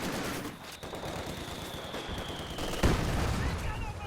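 Gunfire in Company of Heroes 2 rattles in dense, continuous bursts from machine guns in a battle, with a sharper crack near the end, all under a busy layer of battlefield noise.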